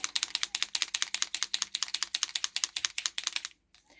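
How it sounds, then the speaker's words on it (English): Up close, an ink pen is shaken quickly to get the ink flowing, giving a fast, even rattle of crisp clicks that runs for about three and a half seconds and then stops abruptly. No one speaks. "I'm just going to shake the pen quickly just to make sure that the ink is being delivered"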